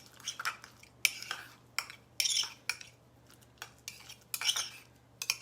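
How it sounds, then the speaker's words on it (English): A utensil mixes chopped spicy peppers into cream cheese in a bowl, close scraping and clinking strokes arriving in irregular bursts with short pauses between, no voices. "So I just chopped them up into little pieces and I mix it in with my cream cheese"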